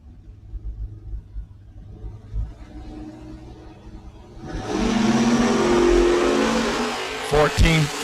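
At a drag strip, a 1967 Camaro and a Buick Regal idle with low rumbling engines, then launch together into a loud, sustained roar of acceleration that stays close and heavy, with a voice speaking over the engines.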